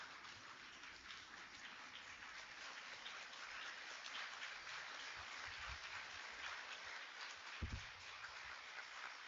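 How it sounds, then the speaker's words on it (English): An audience at the Chinmaya Amrita Mahotsava Yatra event in Bengaluru applauds a children's performance. The sustained, dense clapping sounds like a steady patter, fairly distant and even, with no speech over it. "I think the children need a round applause, a standing ovation."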